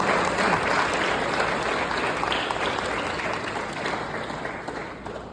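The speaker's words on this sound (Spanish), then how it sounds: "Den un aplauso de Dios" A church congregation applauds steadily after a sermon, a dense, sustained wash of clapping that stays loud throughout and slowly tapers toward the end.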